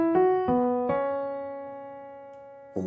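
Three plucked or struck piano-like tones start a major pentascale melody on mi, each note sounding in turn. The last note rings and decays for almost two seconds, and a short click comes at the end. No one speaks.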